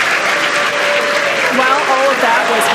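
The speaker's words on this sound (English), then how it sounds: "the crowd here in Hawthorne continuing to react to all these amazing views that we're getting" A crowd at SpaceX Hawthorne applauds and cheers continuously during a Starship test flight, a loud, dense wash of clapping with voices mixed in.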